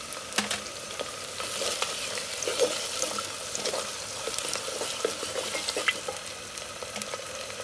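Onions with ginger, cumin and garlic paste frying in a clay pot for beef curry, a steady close sizzle broken by repeated scraping stirs, with faint splashes of water in the background.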